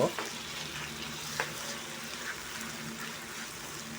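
Sliced onions browning in hot oil for pork sisig sizzle continuously while being stirred in the pan, with a few crisp spoon scrapes over the steady frying hiss.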